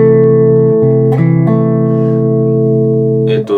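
A guitar chord with an added sixth (thirteenth) rings loud and sustained, its notes shifting a few times as fingers move, then a brief scrape near the end.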